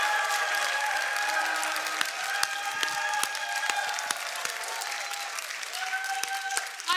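Studio audience applause on a Romanian comedy show, a busy continuous clatter of many hands with sharp individual claps poking through, moderately loud, with brief tonal sounds and faint voices mixed in.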